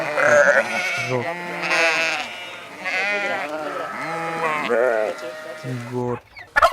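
A goat bleats repeatedly in loud, wavering calls that come one after another and fill the stretch, with no talk.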